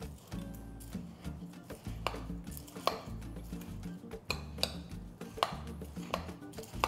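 Halo-halo shaved ice dessert with sweet banana, cassava and camote being mixed in a bowl: faint scraping and clinking of a spoon with crunchy ice stirring in an irregular rhythm, close up.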